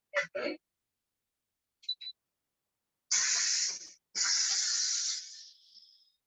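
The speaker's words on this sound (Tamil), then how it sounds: "இந்த மாதிரி ஸ்டீம் இப்படிதான் ரிலீஸ் பண்ணணும்" Steam hisses from a Noxxa electric pressure oven after cooking idli, first a few short spurts, then two long loud bursts that fade to a thin trailing hiss.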